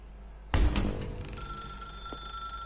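A telephone bell starts ringing suddenly with a loud metallic clang. A high, sustained ringing tone then rings on alone.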